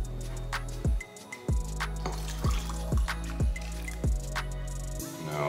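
Chili water is poured and stirred into a pot of birria broth: a series of regular wet sloshes and drips, about eight in a row, near and fairly loud, with no talking.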